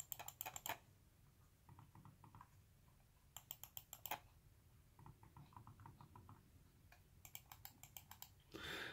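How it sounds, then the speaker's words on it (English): Quiet Jelly Comb computer mouse clicks come in quick bursts of several at a time, sharp, close and quiet, with short pauses between the clusters. "these really quiet mouse clicks"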